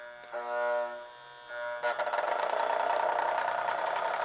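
A single-motor powered A unit of a 50-year-old Rio Grande F3 model train set whirs, a tonal hum that rises after a short gap into a steady, louder buzzing run with rhythmic flutter.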